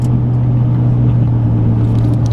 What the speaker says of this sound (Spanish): tienen que esperar los carros a que pasen uno tras otro